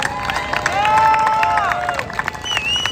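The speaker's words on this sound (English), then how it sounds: "give that man a round of applause" At a justice march in Portland, a crowd cheers and claps for a speaker, excited voices and whoops swelling then fading against scattered clapping, with chatter around.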